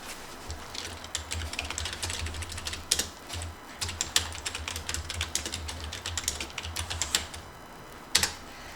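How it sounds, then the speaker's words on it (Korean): Quiet, irregular clicking of a computer keyboard as text is typed into a PowerPoint text box, with bursts of keystrokes, brief pauses and a louder final key press over a low hum. "이제 타이핑 할게요."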